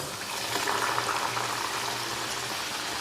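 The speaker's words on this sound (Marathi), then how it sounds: "याच पद्धतीने आपण सगळे वडे छान तळून घेणार आहोत हे वडे जेव्हा आपण तेलात टाकतो" Batter-coated vada frying in hot oil, heard as a continuous bubbling hiss that swells slightly after a moment and then holds steady and fairly loud, no voices.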